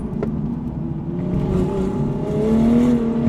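A Toyota GR Supra track car trail braking downhill on a circuit, with a steady close engine drone that rises gradually in pitch and loudness, with no talk over it.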